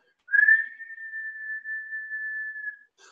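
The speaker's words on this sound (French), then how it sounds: "l'expire, elle se fera par la bouche en sifflant" A single sustained whistling exhale through pursed lips during a yoga breathing exercise, starting with a slight rise and holding a steady pitch for over two seconds, close and alone.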